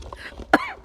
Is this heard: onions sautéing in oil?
no